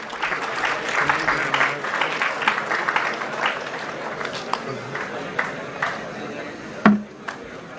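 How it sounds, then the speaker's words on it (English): Audience applause for student speakers at a two-day entrepreneurship and innovation conclave, a steady wash of hand claps from a crowd that thins toward the end, with a few louder isolated claps. "Please give them a huge round of applause."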